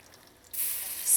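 A spoon scrapes crystallized sugar off the side of a pot while making Trinidad honey roasted peanuts, a short, bright, hissing scrape that starts abruptly and grows a little louder toward the end.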